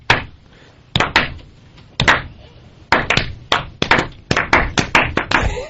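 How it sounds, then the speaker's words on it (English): Studio audience slow applause: sharp, separate claps spaced about a second apart at first, gradually tightening into quicker, more regular beats as the crowd falls into sync, loud and close with no talk. "No one can figure out the slow applause, but it syncs up eventually."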